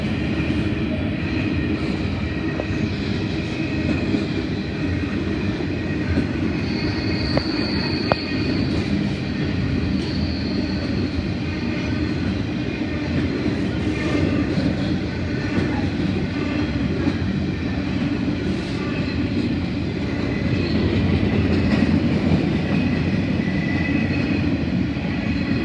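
Passenger train T47 pulling into platform 3 at Concord West station, a steady rumbling roar of rail cars with faint wheel noise and a brief high squeal partway through, sustained throughout without speech.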